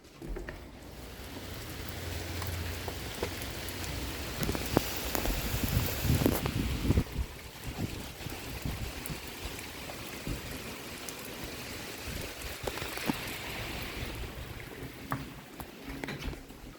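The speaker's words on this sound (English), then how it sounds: "Oh wow, the rain is pouring really bad." Heavy rain pouring down outdoors during a tornado warning, a steady dense wash of noise with scattered louder spatters and gusts, sustained throughout with no voices.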